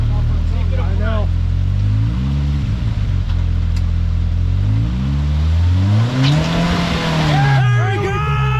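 A Can-Am off-road vehicle driving up a bank, its engine revving loud and close with rising and falling pitch as it climbs, while people talk over it.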